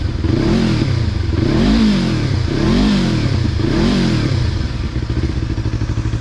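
A Yamaha MT-25 motorcycle fitted with an Akrapovic GP Slovenia slip-on exhaust revs hard and loud up close, the engine note rising and falling in three or four repeated throttle blips over a steady rumbling idle.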